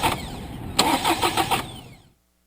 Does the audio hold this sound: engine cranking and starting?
yes